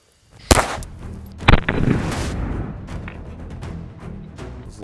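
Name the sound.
22 rifle shot hitting the side of a 6B47 aramid helmet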